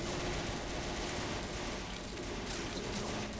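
Rapid gunfire in the Left 4 Dead video game, a dense, unbroken rattle of shots at steady loudness, with no voices.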